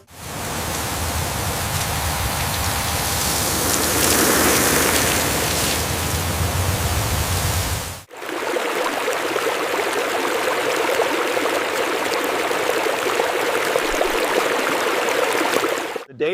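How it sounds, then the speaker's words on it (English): An irrigation sprinkler sprays water over a peanut field as a loud, steady hiss like heavy rain. It stops briefly partway through and then resumes with a slightly different tone. No talking is heard. "we still need to adjust the pressure on this sprinkler head"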